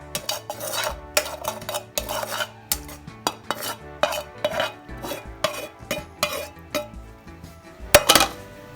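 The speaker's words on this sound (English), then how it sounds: "mix around in the frying pan" A utensil scrapes and clatters against a frying pan as pasta and broccoli are tossed around in it, giving a steady run of metallic stirring knocks that ends in a sharper clank.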